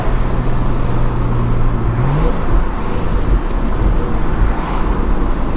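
Tuned Stage 2+ BMW car engine driving in city traffic, a loud, steady low drone with a rising tone near the start, then a dense continuous rumble throughout.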